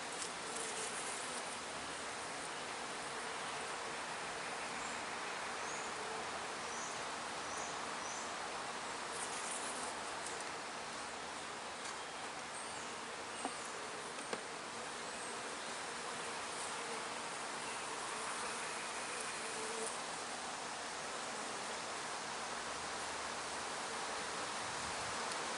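Dense, steady buzzing of many bees around a hive fills the air continuously, a constant hum with no voices.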